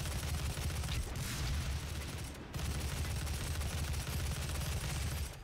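Assault rifle fire in the shooter Doom 2016 as a player battles Hell Knights, heard as sustained rapid bursts with a dense, continuous roar and one short break midway.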